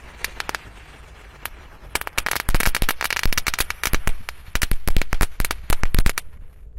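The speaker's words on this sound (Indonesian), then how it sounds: "4 mercon disco happy flower bisa menyala guys" A rapid string of sharp pops and bangs from four happy flower disco firecrackers, building into a dense crackling burst before stopping abruptly; loud and close.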